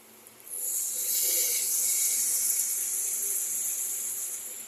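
A splash of water hits a hot pan of capsicum and potato curry and sets off a sudden loud, bright hiss that holds steady for several seconds, then slowly fades.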